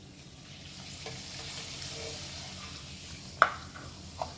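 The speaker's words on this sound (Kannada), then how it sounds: "ಈಗ ಕಾದಿರೋ ಎಣ್ಣೆಗೆ ಹಾಕಬೇಕು." Dried rice papad, made from ragi-style mudde dough, frying in hot oil, giving a soft steady sizzle with a sharp crackle burst near the end and a smaller one just after.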